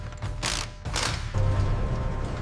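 A torque wrench tightens the lug nuts on the wheels of a restored Peterbilt 379 truck, producing repeated ratcheting clicks and metallic mechanical grinding up close, in uneven bursts without pause.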